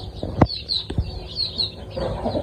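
Desi chickens let outside for the first time give a few soft clucks and short calls close by, with faint rustling in between.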